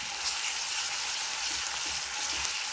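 Ginger garlic paste frying in a pan for capsicum gojju, a steady dense crackling sizzle that holds evenly for the whole stretch with no voices.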